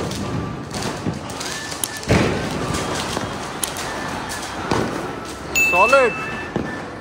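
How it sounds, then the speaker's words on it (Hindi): Diwali firecrackers burst outdoors in a few separate thuds and bangs, two sharp reports standing out amid ongoing background noise, while people talk and react excitedly nearby. "चलो फिर चलेंगे ऊपर और बम फोड़ेंगे भाई, खूब बम बम फोड़ रहे हैं मस्त तरीके से।"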